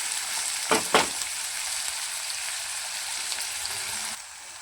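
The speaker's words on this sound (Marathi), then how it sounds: "तर कांदा फ्राय करून घेऊया. कांदा चांगला खमंग भाजून घेऊया." Onions frying in a pan, a steady close hiss of sizzling oil with two short bursts of stirring early on, the sizzle easing slightly at the end.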